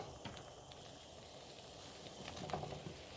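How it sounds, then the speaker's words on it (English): Onions sautéing in a frying pan as peppers go in, giving a soft steady sizzle with light crackles, faint and close, with a slightly louder burst near the end. "On this side, onions are almost sauteed, so I will add peppers into it."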